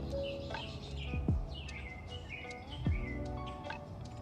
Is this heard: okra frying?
no